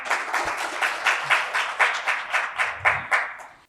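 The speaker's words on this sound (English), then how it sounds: "please give a resounding round of applause as I invite Mr." Applause from a seminar audience greeting an invited speaker at a conference session in Bengaluru, a steady pattern of rhythmic hand claps that holds at moderate loudness throughout and then stops abruptly.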